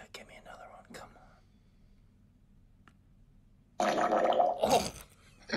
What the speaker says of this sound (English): Shall I play another fart sound?